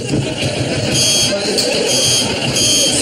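A steady electric buzzing hums continuously under a voice talking throughout, with the tone swelling slightly at moments.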